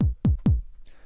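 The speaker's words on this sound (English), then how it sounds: "I've got this 909 kick drum" Three quick, punchy 909 kick drum hits in a row, each a deep thump with a fast-decaying tail, then a faint noisy wash.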